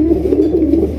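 A Raj Golla pigeon, a brick-coloured bird, gives its Gobinda call, a low, close, rolling coo repeated in quick pulses for about a second with no other sound.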